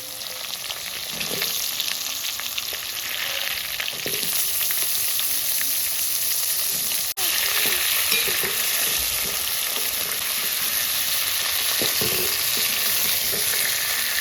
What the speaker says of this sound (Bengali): আমি এবার সবজিগুলো কষিয়ে নেব